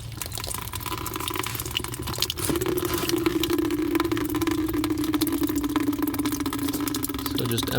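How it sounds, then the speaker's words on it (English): Coolant drains from a 2005-2010 V8 Jeep Grand Cherokee radiator into a bucket: a steady trickling, splashing stream of liquid begins partway through and carries on, close and continuous, over a faint background hum. "I'm gonna go ahead and drain the cooling system, which you can do with a bucket here"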